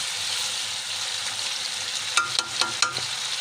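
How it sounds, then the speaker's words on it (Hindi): Chicken for white karahi sizzles steadily while it is fried in a pan, with a few sharp clinks of a spoon stirring near the end and no talking. "हम इसे हिलाएंगे और तकरीबन 5 मिनट के लिए आप इसे अच्छी तरह भून लें"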